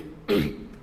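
A single short cough sounds once, fairly faint, against a quiet background.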